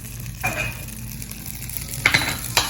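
Room-temperature butter sizzles steadily in a very hot pan, a constant close hiss with a low hum underneath and a few sharp clinks of a utensil near the end.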